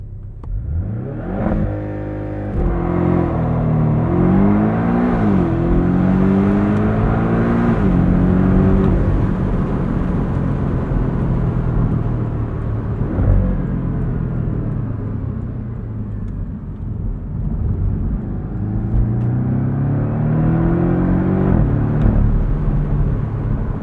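A 2024 Porsche 718 Boxster Style Edition's base flat-four engine revs up for a launch-control start, then pulls hard through several upshifts with rising and falling engine notes, a loud, close, continuous rumble with no talking.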